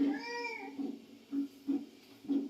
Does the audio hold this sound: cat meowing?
yes